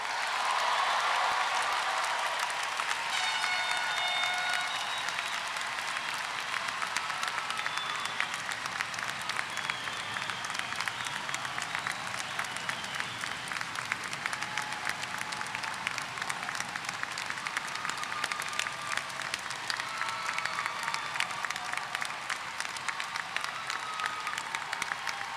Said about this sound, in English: give one rousing hand and cheer for every single one of our graduates